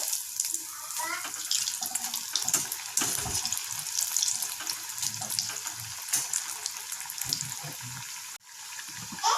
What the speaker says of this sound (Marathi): बघा वडे खूप छान फ्राय झालेले आहे